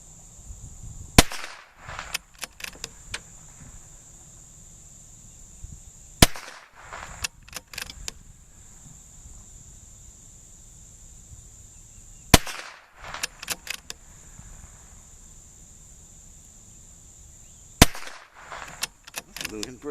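Five sharp .22 rifle shots from a Ruger Precision Rifle, evenly spaced several seconds apart, each a loud crack followed by faint clicks and handling noise of the bolt between rounds.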